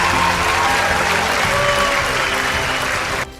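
Loud, dense applause and cheering from a large crowd at a Thai government award ceremony, sustained and even before cutting off abruptly near the end.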